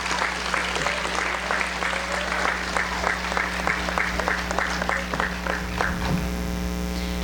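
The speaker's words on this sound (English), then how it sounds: "Let's give those students a round of applause" Sustained applause from an audience at a senior awards ceremony, steady dense clapping lasting throughout, with a low electrical hum running beneath it.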